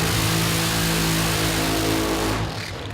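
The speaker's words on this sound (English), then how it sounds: "Nice clean burnout." A car doing a burnout at a Beach Bomb burnout event roars loudly and continuously with engine and tyre noise for about three seconds, then begins to fade.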